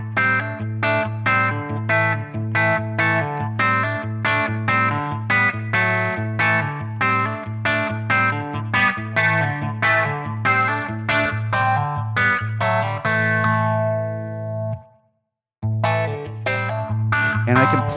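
A custom Telecaster electric guitar with a clean tone through a Tonex amp modeler plays a steady, rhythmic run of picked notes over a sustained low bass note, briefly stopping near the end before resuming.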